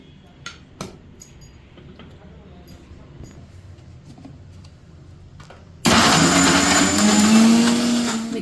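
Mixer grinder grinding tamarind, salt and fried drumstick leaves into chutney: after a quiet stretch with a few faint knocks, a loud, steady whirring roar bursts in abruptly and runs to the end.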